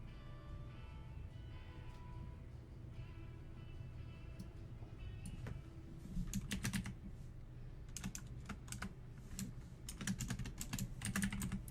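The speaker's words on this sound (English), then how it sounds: "This is also a gaming keyboard. That's why it's the mechanical." Typing on a mechanical gaming keyboard, soft irregular key clicks at first that turn into faster, louder bursts of clacking over a low background hum.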